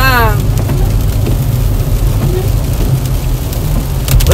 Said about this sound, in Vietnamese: Hôm nay trời mưa rất là to quý vị ơi